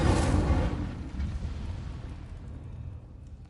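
Incendio fire spell cast in the video game Hogwarts Legacy, a loud roaring burst of flame that swells at once and then trails off into a long, fading rumble.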